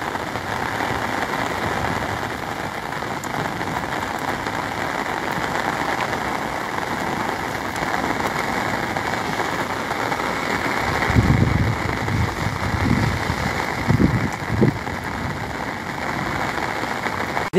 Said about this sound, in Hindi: ये देखो क्या बारिश पड़ रही है यार